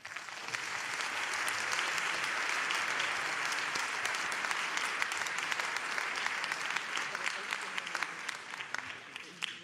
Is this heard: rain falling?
no